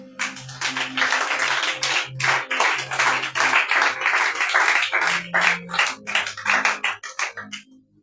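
A church congregation at a prayer and repentance service claps together in a fast, steady rhythm, many hands loud and close, with low sustained musical tones underneath and the clapping fading out at the end.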